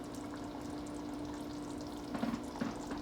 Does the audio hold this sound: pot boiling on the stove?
yes